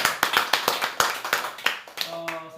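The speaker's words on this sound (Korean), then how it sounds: "저 두 분한테 한번 큰 박수 한번 보내주시겠어요?" Audience at a citizen reporter appointment ceremony clapping in unison for two center staff members, a rhythmic series of sharp, evenly spaced claps close by, ending as a short electronic tone sounds.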